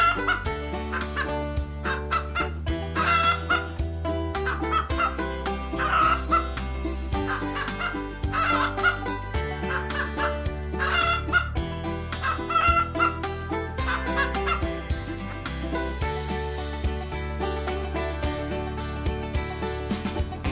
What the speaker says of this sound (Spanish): Con su suave cacareo las gallinas se comunican entre ellas y mantienen el orden en el gallinero.